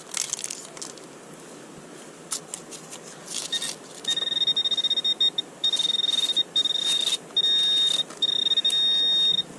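Metal detector in use hunting Civil War buttons gives repeated high electronic beeps, short tones broken by pauses, alongside close rustling of grass and ground while sweeping outdoors.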